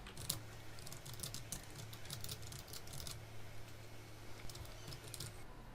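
Soft, quick keystrokes on a computer keyboard patter in irregular bursts while someone types code into MATLAB, faint and close over a low steady hum.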